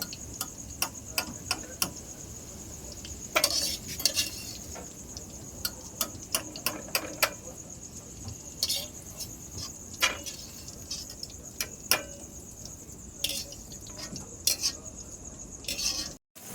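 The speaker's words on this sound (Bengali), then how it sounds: "লাল লাল করে ভেজে নিয়েছি, ক্যাপসিকামগুলো আমি তুলে নেব" Metal spatula clinking and tapping against a pan while fried capsicums are lifted out, a string of light, irregular clicks and scrapes over a steady background hiss.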